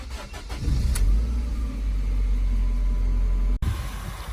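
A car engine, 40,000 original miles and Cat C, cranks with a short burst, then settles into a steady, close, low rumbling idle with a brief dropout near the end.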